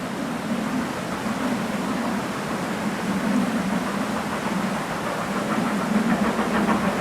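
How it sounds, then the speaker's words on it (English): A visiting Prairie steam locomotive at the Keighley & Worth Valley Railway spring steam gala, heard as a steady, fairly loud rumbling roar with a faint rhythmic clatter as it draws nearer. "this should be the Prairie now, the visiting engine."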